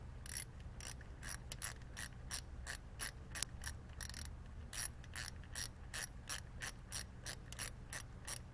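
Ratchet turning a 10 mm socket in the engine bay of a 2013-2018 Cadillac ATS 2.0T, a faint, fast series of clicking pawl sounds in regular bursts, close by and with no talk.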